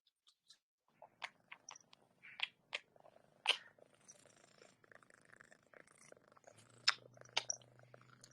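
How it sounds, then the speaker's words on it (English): A cat purring softly and steadily at close range, a low continuous rumble under scattered small clicks and chewing-like crunches, with no talking. "Kitty. Pretty kitty."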